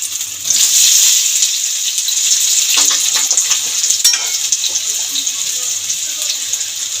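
Cut potatoes land in hot mustard oil already tempered with whole cumin, cloves, cardamom and cinnamon, setting off a loud, continuous hissing sizzle, with a few clattering knocks from the pan and utensil partway through.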